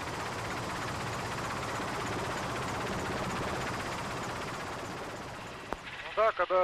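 A helicopter flies close to the active crater of Karimsky volcano, its engine and rotor making a steady, dense roar that fills the whole stretch before easing slightly, with a voice starting at the very end.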